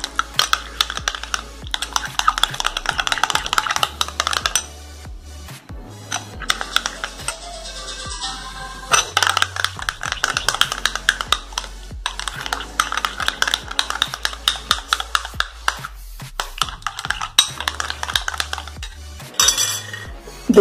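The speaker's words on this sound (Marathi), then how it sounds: "दही फेटून घ्या" A spoon whisks yogurt in a bowl for Monaco-biscuit dahi chaat, a brisk run of rapid metallic clinks and scrapes against the dish, close up with brief pauses between bursts.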